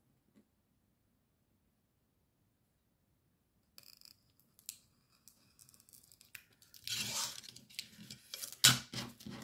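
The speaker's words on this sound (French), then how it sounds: "Et je voudrais voir si je coupe au ciseau tout le tour." Scissors snipping around the edge of a laminated plastic sheet, a few sparse clicks after a silent start, then denser crisp cutting and crinkling that builds to a loud close-up snap near the end.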